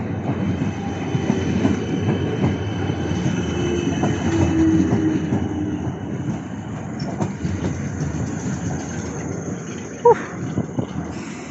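A Class 455 electric train passes at Clapham Junction with a continuous rolling rumble and wheel clatter, a faint squeal and a sharp click near the end.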